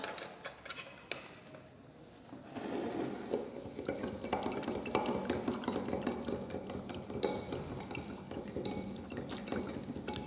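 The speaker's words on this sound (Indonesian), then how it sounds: "Lalu kita aduk hingga larut." A solution being stirred until it dissolves during a school biology practical on anaerobic respiration, heard as soft repeated scraping and light clinking of a utensil against a container, steady and close, with no talking.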